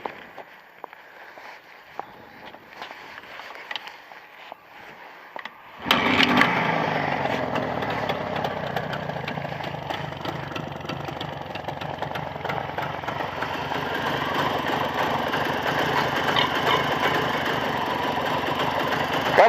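A Jawa 634 motorcycle engine is quiet at first, then fires up and keeps running in a steady, close, rattling idle for the rest of the time.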